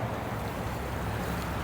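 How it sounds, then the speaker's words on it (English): Water spilling out of a former pond over a few rocks with no dam, in a Long Island park, giving a steady, broadband rushing wash with a low rumble and no voices. "so you can kind of see all that water coming out"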